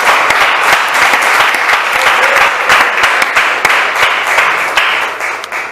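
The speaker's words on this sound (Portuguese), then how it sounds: "Uma salva de palmas para o Senhor." A church congregation at a Deus é Amor service claps together in loud, sustained applause, a dense close wash of many hands with sharper individual claps standing out, tapering slightly at the end.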